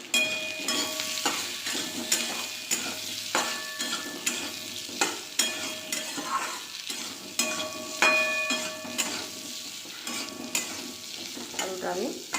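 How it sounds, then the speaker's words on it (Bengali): Potatoes seasoned with salt and turmeric fry in a pan, a steady sizzle broken by regular scraping stirs of a utensil, close and fairly loud, with faint tonal background sounds. "আলুটা আমি ভেজে নেব ভালো করে।"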